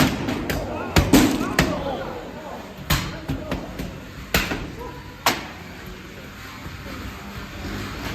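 Combat robot KoryBantes striking its opponent in an arena, a string of sharp loud impacts and bangs spaced irregularly, with crowd and commentator voices underneath.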